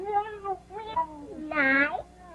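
A cat meows several times at moderate distance, with one long rising cry near the end, while a person talks softly alongside it.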